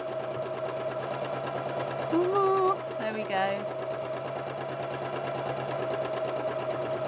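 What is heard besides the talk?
sewing machine stitching at controlled speed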